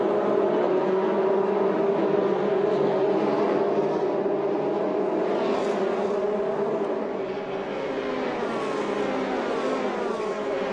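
Formula Renault Eurocup single-seater race cars scream around the Spa-Francorchamps circuit in dry conditions, a dense, sustained engine roar with several cars overlapping and rising pitch sweeps as they pass, loud and continuous throughout.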